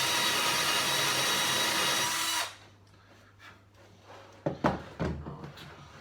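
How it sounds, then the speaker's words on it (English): An electric drill bores a hole through wood with a loud, steady whirring grind for about two seconds, then cuts off, leaving a quiet room and a few light knocks and clunks. "I might as well fucking properly drill it and then properly fucking fill it."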